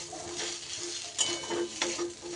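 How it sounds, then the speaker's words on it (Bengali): Food being stirred and mixed in a sizzling pan with coriander or curry leaves, steady scraping and sizzle with a few sharper utensil clinks, close and moderately loud. "আমি একটু জাস্ট নাড়াচাড়া করে মিশিয়ে নিচ্ছি"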